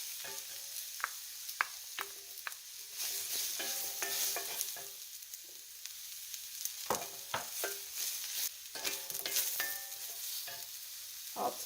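Mushrooms sautéing in a skillet with a little olive oil and garlic, a steady sizzle broken by repeated scrapes and knocks of a utensil stirring the pan, close and fairly loud with no talking.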